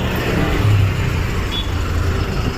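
A tempo rumbles past close by on a busy town road in Maharashtra, a steady low engine drone blending into continuous traffic noise throughout.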